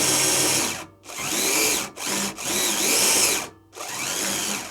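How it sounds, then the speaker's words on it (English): An old 12-volt cordless drill motor drives a model tank directly through a speed controller, giving a loud whining motor hum that revs up and cuts out in several bursts with short pauses between. "The motor that I'm using is an old drill, an old 12-volt drill which I had years ago"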